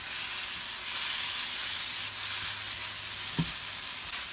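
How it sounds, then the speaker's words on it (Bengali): Semolina halwa (suji) sizzling steadily in a pan on the stove as it is stirred, with a continuous frying hiss and one brief scrape of the spoon near the end. "2-3 মিনিট নাড়াতে থাকবো যতক্ষণ না এটা পুরো ঘুরতে থাকে আমার চুলার উপরে"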